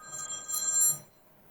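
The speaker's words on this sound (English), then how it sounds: "The phones are ringing." An office telephone rings at a landscaping business: a single electronic ring burst, moderately loud and close, that stops after about a second, leaving quiet room tone.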